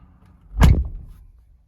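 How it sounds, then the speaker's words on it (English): A single solid thunk of a 2021-or-later Ford F-150 pickup truck door opening, one short burst in otherwise quiet surroundings, fading quickly. "Once it's off, I'm gonna open the door."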